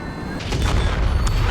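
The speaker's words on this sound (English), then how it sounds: "the explosion doesn't render if you're too close to it" Close-range explosion in the real-time strategy game WARNO, a cluster of sharp booming blasts rolling into a rumble, loud and heavy.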